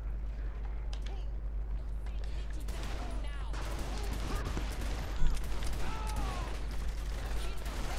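Pistol shots in the Saints Row: The Third game, a run of sharp cracks among busy gameplay noise and a steady low hum, with one louder report standing out near the middle.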